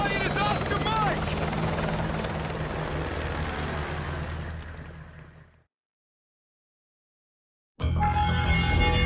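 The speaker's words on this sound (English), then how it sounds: "I'll brief you on the chopper." A helicopter in Call of Duty Modern Warfare 2 Campaign Remastered roars with a loud, steady rotor thrum that fades out, leaving a short silence before a burst of game sound resumes.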